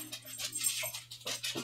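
A dog pants and whimpers close by in a quiet room, with short breathy bursts and soft whines repeating through the moment.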